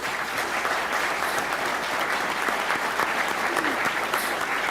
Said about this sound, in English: Let's give all our city employees a round of applause.